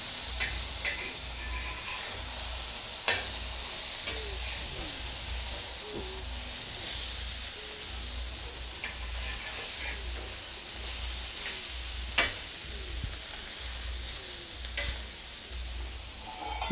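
Drumstick egg roast fries in a pan under a loud, steady sizzle and hiss, with occasional sharp clicks and scrapes as the pieces are tossed.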